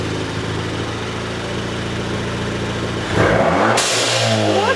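A Ford Fiesta ST with a blow-off valve spacer idles, then revs sharply and releases a loud whoosh as the throttle drops, followed by a hissy flutter over the engine.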